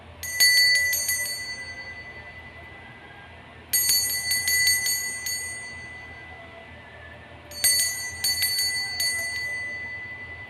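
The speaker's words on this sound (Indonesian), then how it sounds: "Saya mulai saja dengan ditandai lonceng berbunyi." A bright bell rings in three separate clusters of quick strikes, each ring fading before the next, alone with no voices.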